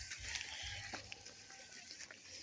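Water trickling in a creek on a coconut-farm property in San Narciso, Quezon, a steady, close, bright rushing flow that runs continuously without pause, with no voices over it.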